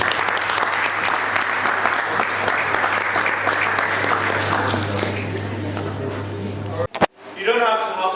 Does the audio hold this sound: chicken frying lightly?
no